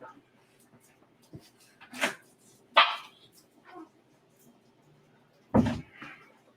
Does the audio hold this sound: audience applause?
no